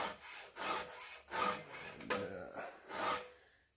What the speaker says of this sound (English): Had a guy drop off a couple chainsaws and three bars and about six chains. So, getting these all sharpened up